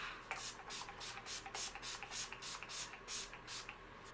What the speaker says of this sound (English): So just kind of close my eyes and spritz it all over the place.